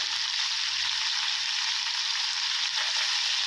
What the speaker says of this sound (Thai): ใส่ผักทุกอย่างลงไปผัดเลยครับ